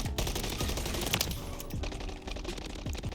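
Rapid bursts of automatic gunfire in Modern Warfare III beta multiplayer, loud and close, with repeated sharp volleys and short pauses between them.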